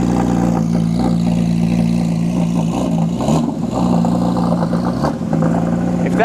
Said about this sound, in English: Listen to the exhaust on that thing.